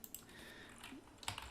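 Fingers tap a computer keyboard, a quiet, irregular patter of light clicks close by, with a few sharper keystrokes near the end.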